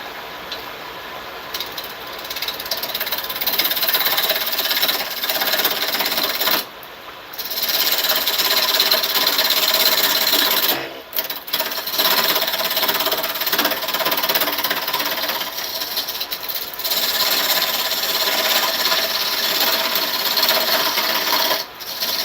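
Turning tool cutting into spinning wood on a lathe in a wood shop, heard as a loud, continuous rough scraping hiss in long passes, broken by brief pauses between cuts.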